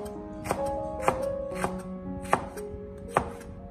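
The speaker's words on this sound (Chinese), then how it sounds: "一颗青椒，青椒也切成马蹄片" A knife slices a green chili pepper into diagonal horseshoe-shaped pieces on a cutting board, five or six distinct, evenly spaced chops, close and clear against a quiet background.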